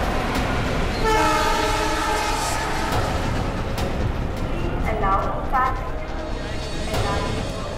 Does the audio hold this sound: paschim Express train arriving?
yes